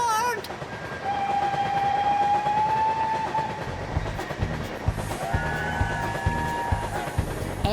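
A cartoon train sounds long sustained whistle tones, then settles into a rhythmic clickety-clack on the rails, with a second whistle blast over the clatter.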